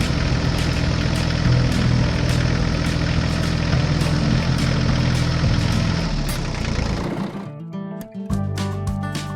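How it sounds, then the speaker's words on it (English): A farm tractor drives slowly over a newly paved farm road, its engine holding a steady, loud, rumbling idle-like drone with a vibrating low hum, then dropping off sharply near the end as the engine note fades. "the tractor slowly drove over the newly paved road, checking its quality"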